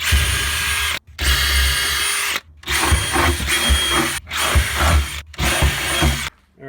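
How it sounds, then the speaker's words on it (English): A power drill runs in five short bursts, each a second or so of buzzing whir broken by brief silences as it bores pilot holes for a nitrous kit install on an LS Camaro nearby. "let's put a pilot drill through it, and then we'll enlarge the holes"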